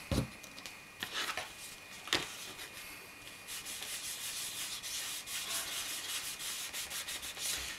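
A cloth rubs Canova cream onto a leather knife sheath with the knife inside it. The sound is a close, soft, continuous rubbing with a few sharper scuffs near the start and no talking.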